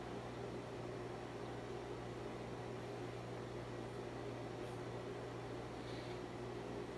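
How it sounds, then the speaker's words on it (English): A microwave oven heating lunch hums steadily and evenly at a constant level throughout, with faint higher-pitched noises drifting in over the drone. "I'm waiting for my lunch to microwave up"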